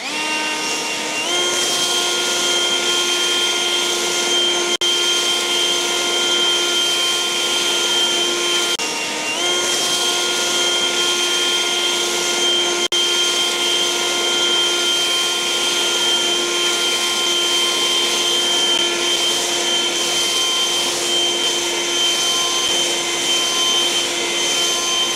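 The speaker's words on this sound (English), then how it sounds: "let's see what we can get done in about 3 minutes with the hand blower and the backpack blower" Echo eForce 2500 battery handheld leaf blower clearing pine needles and leaves, a steady, loud, close electric whine with high tonal hum that runs unbroken throughout, with only slight wavers in pitch.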